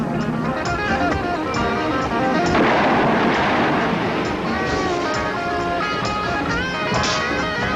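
Shotgun gunfire in a police TV drama, a loud, dense run of blasts and booming reports over a continuous roar with a heavy burst near the middle.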